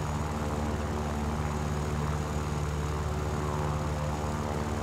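Yak-3P propeller fighter in War Thunder, its piston engine droning steadily and loud throughout with a constant harmonic hum, no talk.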